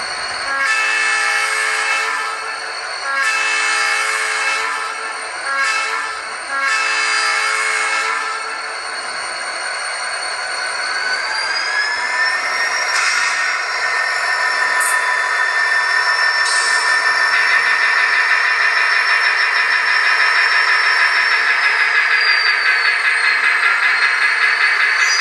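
An HO scale EMD GP40 model locomotive from ScaleTrains crawls at very slow speed, with its onboard sound playing steady diesel engine drone and repeated horn blasts over a continuous hum, loud and close, with no talking.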